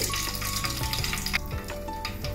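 Mustard seeds sizzle and crackle in hot oil with a dense, continuous frying hiss and scattered small pops.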